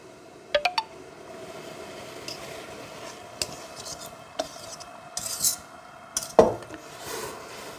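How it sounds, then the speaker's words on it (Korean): A spoon scrapes and clinks against a pot while stirring a thick gochujang mixture with rice syrup. The sharp knocks and rubbing scrapes are spaced irregularly, with no talking. "이렇게 저어 주셔야 돼요."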